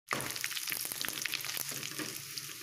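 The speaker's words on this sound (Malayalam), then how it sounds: "ഇതിലേക്ക് നമുക്ക് കറിവേപ്പില ഇട്ട് കൊടുക്കാം" Curry leaves dropped into hot oil with golden-browned ingredients for a roasted-coconut egg curry set off a sudden, dense crackling sizzle that continues steadily up close, with no talking.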